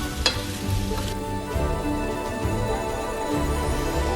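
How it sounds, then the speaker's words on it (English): Potatoes sautéing in a tablespoon of oil in a large skillet over medium-high heat, a steady close sizzle with a few brief clinks and stirring bumps near the start. "Drain, then saute them in a large skillet over medium-high heat with a tablespoon of oil."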